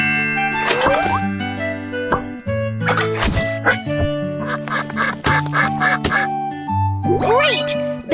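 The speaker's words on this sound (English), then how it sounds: "Great! The duck is clean and healthy now." A cartoon duck in a children's animal hospital game quacks repeatedly in bright, nasal bursts over cheerful background music and chiming effects.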